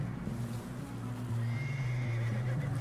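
A horse in Red Dead Redemption 2 gives a loud, close neigh that rises and wavers over a couple of seconds, with faint hoof clops underneath and no talking.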